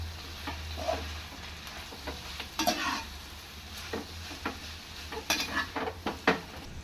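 Street-style noodles stirred in a hot pan with soy sauce and vinegar: steady sizzling frying under irregular scraping, clinking strokes of a utensil against metal, close and moderately loud, no talking.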